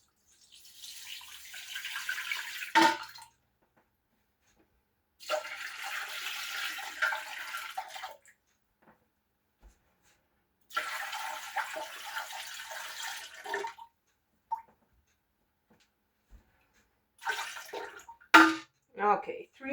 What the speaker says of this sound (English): And now I need to add 3 quarts of water.